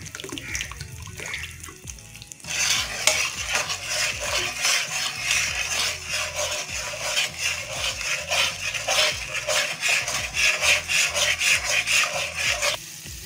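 Semolina (suji) roasting in a pan for halwa, stirred with a spoon, gives a steady, close gritty scraping and rasping that grows louder after a short quiet start and runs on without pauses.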